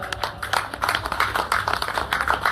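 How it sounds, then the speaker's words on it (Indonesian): Clapping at a thanksgiving gathering in Gorontalo, a small crowd applauding together in a quick, uneven patter that stays moderately loud and fairly close throughout. "Tepuk tangan."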